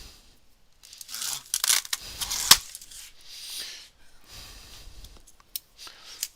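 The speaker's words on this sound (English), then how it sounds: "We'll go ahead and cut this open and take a look inside the box." Tape being cut and torn open on the box of a SCULPFUN S6 Pro laser engraver, a few close rasping slices and rips with bursts of noise, then quieter crinkling of packaging.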